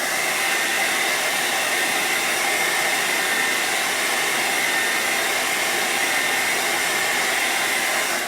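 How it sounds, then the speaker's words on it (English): A hot air blower on its hottest setting, drying tacky adhesive paste on a reusable silkscreen transfer laid over a tea towel, gives a steady, loud, close whoosh of rushing air that holds unchanged for the whole stretch with no talk. "you would want to use the hottest setting possible and just give it a shot of heat, air, and it will really dry it so it's not tacky anymore"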